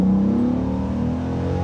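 A Dodge Ram SRT-10 pickup with its 8.0-litre V10 Viper engine, a loud nearby drone with a steady low tone that climbs slightly in pitch as it pulls, uninterrupted by talk.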